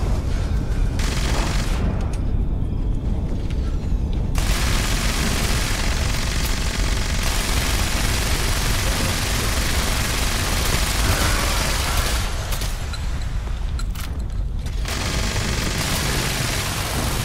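Sustained dense gunfire and explosions in the online game Fallout 76, with heavy continuous rumbling bursts that fill the whole stretch at a steady loud level.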